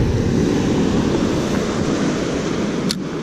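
Surf breaking steadily onto a beach where white water churns the sand, a continuous broad wash of waves with wind noise across the microphone, no voices.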